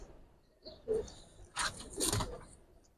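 Giribaz pigeons coo inside a loft, making soft throaty calls in several short bursts, fairly close, with faint rustling in the background.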